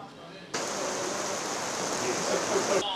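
Rain pours steadily as a dense, even hiss of falling water around Bari football fans outdoors, starting abruptly and holding at a constant level for a few seconds with faint voices beneath.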